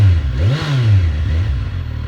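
A 2019 Kawasaki Ninja Z1000SX motorcycle engine revs up and falls back, loud and close, a steady idle swelling into one rising and falling blip before settling again, with no talk.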